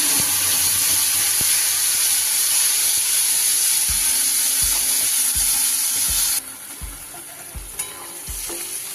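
Spice paste sizzles loudly in hot oil in a pan for a cauliflower and soybean curry, a steady frying hiss with repeated stirring scrapes and taps, the sizzle dropping slightly partway through.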